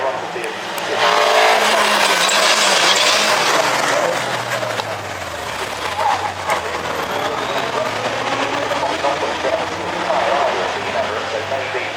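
Special saloon race cars in a close pack of six at Cadwell Park, a roaring wash of engines that swells and fades under continuous commentary.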